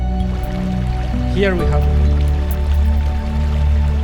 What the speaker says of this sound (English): this rushing water, this splashing water is telling us that we are closer now to the entrance of the cave